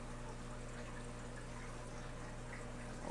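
Water running steadily into a saltwater fish tank as the level rises, a constant close wash of filling water with a low pump-like hum beneath, no talking.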